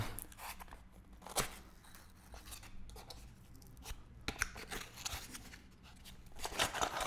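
A cardboard product box being opened by hand, with repeated scraping, tearing and rustling sounds up close and irregular bursts of handling noise.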